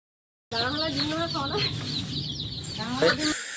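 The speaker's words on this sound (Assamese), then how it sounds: "এইফালে মুৰ্গী ভেকচিন দিয়া হৈ আছে" Chickens clucking and squawking agitatedly up close during vaccination, several birds calling over one another in rapid bursts after a moment of silence.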